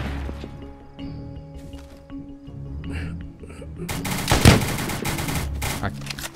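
Gunfire in the game DayZ: a dense burst of rapid shots erupts loudly midway after quieter ambient game sounds, continuing as a sustained fusillade to the end.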